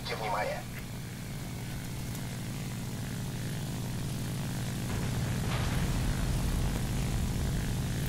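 A propeller aircraft engine in War Thunder drones steadily throughout, a constant mid-loud engine hum with a short chirp at the start.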